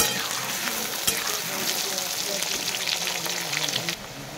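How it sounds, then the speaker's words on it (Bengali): Potatoes frying in hot oil, a dense, close, continuous sizzle with light crackle, steady throughout before easing slightly at the very end. "আলুগুলো ওইভাবে লাল লাল করে ভেজে নেব।"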